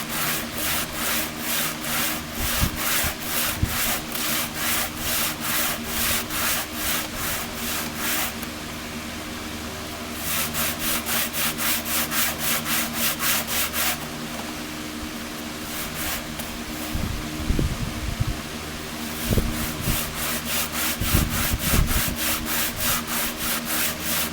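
Sandpaper is rubbed by hand over a rusty 1926 DL&W steel rail, making rapid rhythmic rasping strokes that pause briefly and resume, close and steady throughout.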